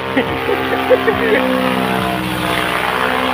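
Propeller aircraft descending, a continuous droning buzz with a steady engine hum, heard loud and close while people talk over it.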